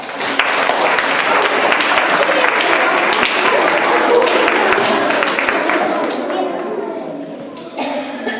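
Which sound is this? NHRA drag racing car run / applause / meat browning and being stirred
applause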